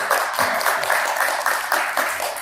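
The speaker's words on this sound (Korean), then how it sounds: "박수로 맞아주시기 바랍니다." Audience at a government and civil society meeting at the Korea Press Center applauding to welcome a speaker, a steady wash of clapping throughout the short stretch.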